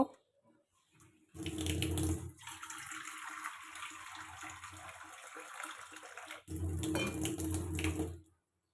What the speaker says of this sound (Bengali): এখন প্রেশার কুকারে দিয়ে নেব। দিয়ে পরিমাণ মতন পানি দিয়ে নেব।